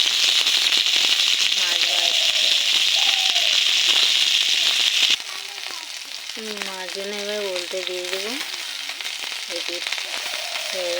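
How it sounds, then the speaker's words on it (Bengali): Fish frying in a kadai over a wood-fired stove makes a loud, dense, continuous sizzle close by, which drops to a softer crackle midway as a voice speaks over it. "উনুন ধরে মাছ ভাজবো দেখুন বন্ধুরা এই যে মাছ দিয়ে দিয়েছি কড়াই"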